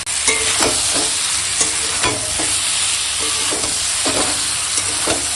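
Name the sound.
sautéing spices: turmeric, Kashmiri chili powder, dried chili, salt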